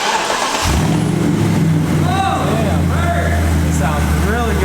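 A BMW 650i cranks and fires up after a jump start, then settles into a steady, deep idle that runs on continuously while people talk nearby.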